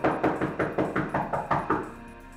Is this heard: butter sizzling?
no